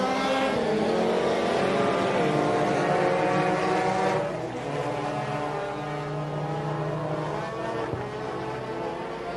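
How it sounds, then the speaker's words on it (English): Race cars at a short-track event roar past the flag stand at the start, a loud layered engine drone with rising and falling pitches as the pack passes close by, then easing slightly. "Nick Timberlake gets this race underway. They cross the ATI flag stand"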